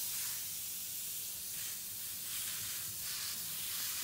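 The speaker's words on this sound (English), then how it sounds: "There's so much water pressure coming out of this hose" Steady broadband hiss of water spraying from a hose at high pressure, continuous and close, swelling slightly in intensity partway through.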